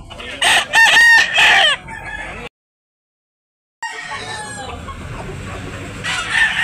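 Roosters at a Cebu farm crow loudly and close in a sustained call, followed by a short gap and then a lower mix of clucking and crowing from other birds.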